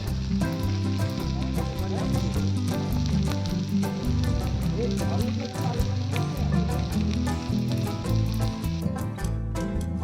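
Tandoori chicken sizzles steadily on an outdoor barbecue in a jungle setting, a dense continuous frying hiss with crackles running throughout at close range, with no voices.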